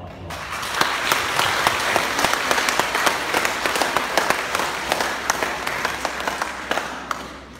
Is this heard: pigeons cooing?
no